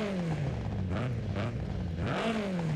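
A 1997 Honda Civic Type R's 1.6 liter inline-four engine in Forza Horizon 5 revs up and down a few times, its tone rising and falling, heard up close with no voices.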